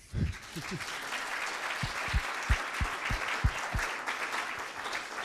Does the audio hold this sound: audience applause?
yes